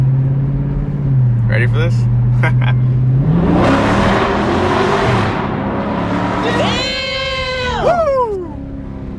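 A 2018 Dodge Charger Daytona 392 with its mid muffler deleted idles with a low, steady drone, then is revved hard into a loud roar before settling. Someone speaks briefly and whoops afterward.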